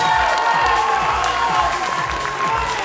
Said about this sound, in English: A round of applause for all competitors as they leave the stage.